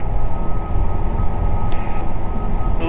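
Small training airplane's piston engine holding about 2,300 RPM in cruise, heard from inside the cockpit as a loud, steady, throbbing drone with a constant low rumble.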